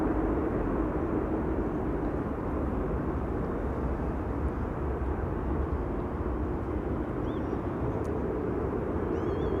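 A KLM Embraer 175 jet arrives at Amsterdam Schiphol Airport from Stuttgart, heard as a steady low rumbling roar at moderate distance, with faint bird chirps briefly appearing on top late on.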